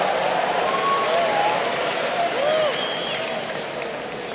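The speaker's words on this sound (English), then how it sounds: "Everybody can cheer for Earth." Audience at a Liberty University convocation cheers and applauds, a dense steady wash of clapping and shouts that holds loud, then eases slightly toward the end, with scattered whoops rising over it.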